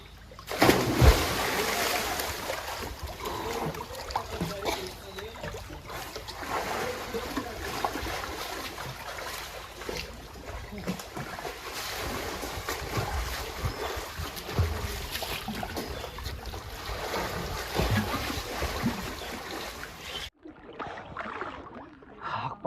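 Water splashes and churns steadily in a cold outdoor swimming pool at Mahabaleshwar on a rainy day, a continuous wash of splashing with faint voices underneath before it cuts to near quiet at the end.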